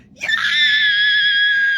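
A woman lets out one long, sustained high scream in the morning, rising quickly and holding steady, loud and close, with no talk.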